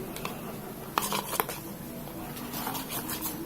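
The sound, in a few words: stirring slime mixture in a container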